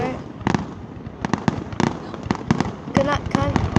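Fireworks grand finale on July 4th: a rapid barrage of sharp, loud bursts and crackles firing in quick succession, with whistling shells and excited voices talking throughout.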